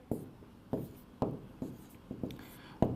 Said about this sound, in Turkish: Aynı cümleyi bir daha yazıyorum.